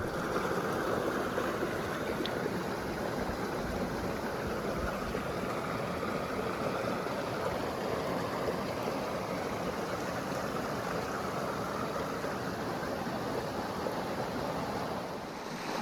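Desert creek used for trout fishing, water flowing in a steady broadband rush, close and continuous, with some wind noise on the microphone and no talking.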